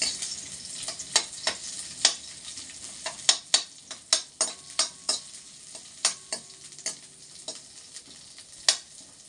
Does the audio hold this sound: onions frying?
yes